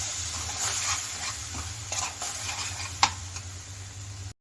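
Tomato masala for bhindi masala being stirred and fried in a pan over a low flame, giving a steady soft sizzle with scraping stir strokes throughout and one sharper clink near the end.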